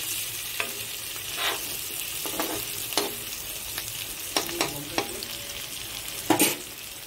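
Meat frying in a pan and being stirred, a soft continuous sizzle broken by sharp scraping strokes and clacks of the spoon at irregular intervals, close and clear.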